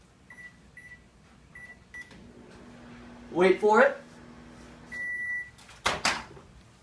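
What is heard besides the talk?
microwave oven heating soup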